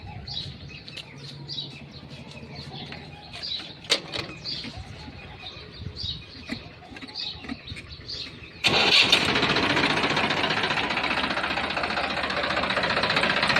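A one-owner Massey Ferguson 7250 tractor with battery self-start fires up: a sudden loud, steady engine roar cuts in after quieter outdoor ambience with birds chirping, then runs continuously near the listener.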